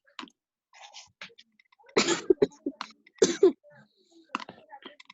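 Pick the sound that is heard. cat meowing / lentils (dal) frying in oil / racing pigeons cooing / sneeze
sneeze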